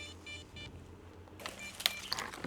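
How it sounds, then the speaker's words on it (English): DJI Avata 2 FPV drone's beeper chirps after a crash, a few faint short electronic beeps in the distance over outdoor background noise. "Beeper is a godsend though."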